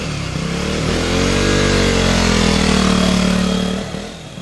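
A 125 cc motorcycle engine with a fault runs by itself and stalls when the throttle is reopened, a loud steady drone that swells and then drops away as it cuts out.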